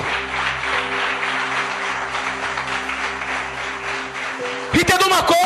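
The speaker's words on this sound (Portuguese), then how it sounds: "Você pode aplaudir o Senhor Jesus?" Applause for Jesus fills a church service, a broad, continuous patter of clapping with a sustained tonal hum underneath, ending in a burst of voices in Portuguese.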